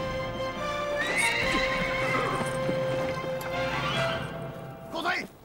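A horse whinnies loudly in a period martial-arts drama battle scene, a long rising neigh over clopping hooves, close and prominent with voices around it.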